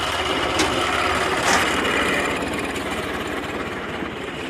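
A steady mechanical whir of a fast-spinning Ursus C-360 tractor gearbox shaft in fifth gear with a continuous engine hum beneath, even and close, no talking.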